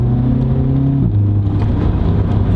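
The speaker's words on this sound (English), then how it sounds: "It shifts at 4000 and you get a nice pop from the exhaust." A tuned Volkswagen Polo GTI (6C, Stage 2, 280 hp) engine revs loudly and steadily in sport mode at half throttle, with a sudden drop in pitch as it shifts gear at 4000 rpm partway through, giving an exhaust pop.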